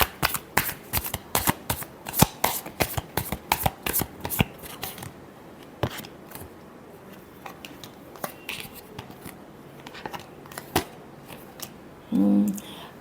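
Tarot cards are shuffled close by in quick, crisp riffling bursts with a rapid uneven rhythm, then sparser single card snaps, ending with a brief soft shuffle.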